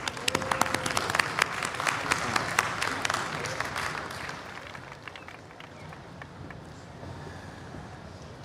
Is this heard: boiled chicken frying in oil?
no